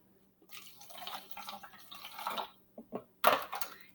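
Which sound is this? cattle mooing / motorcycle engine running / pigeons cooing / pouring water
pouring water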